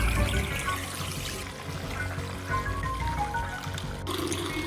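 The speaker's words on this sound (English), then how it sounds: "you run a lovely sudsy bowl of warm water" Warm water pours steadily into a bowl at a bathroom sink, a continuous close gushing trickle that slightly changes tone as the bowl fills.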